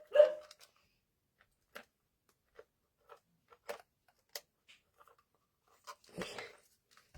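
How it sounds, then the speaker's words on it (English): A dog barks in short, sharp, separate yelps at irregular intervals, somewhat distant and alone in an otherwise quiet indoor room. "You can hear my dog barking."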